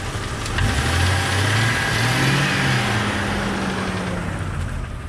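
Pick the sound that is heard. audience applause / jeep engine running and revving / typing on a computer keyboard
jeep engine running and revving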